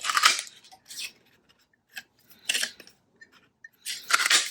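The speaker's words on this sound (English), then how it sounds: "I'm going to cut out one of these, like that, and I'm going to cut out two of these if I can" Scissors snip through paper while cutting out small pieces for a paper bag craft with pockets and tags: a few distinct, crisp cutting bursts separated by short pauses, close and clear with no talking.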